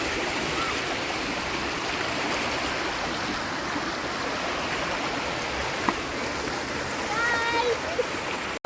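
River water flowing and splashing, a steady close rush with small splashes, a faint brief knock, and a voice speaking near the end.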